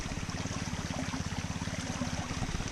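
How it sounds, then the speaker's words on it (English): A waterfall in the distance behind a running pump at a gold-prospecting dig site in the northeast, the pump's steady rhythmic chugging dominating while faint rushing water sits underneath. "I can hear a waterfall if you're listening over the pump."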